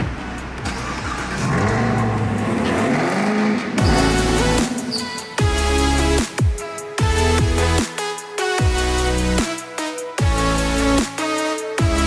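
A Chevrolet Camaro starts up and pulls away. Its engine revs hard through a series of rising gear pulls, each ending in a sharp drop as it shifts, loud and close.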